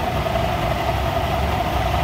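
A cold Honda Click 125 scooter engine (V3/V4) runs at a steady idle with a constant mechanical hum and a noisy, rattly texture. It stays close and even from start to finish, with no talk.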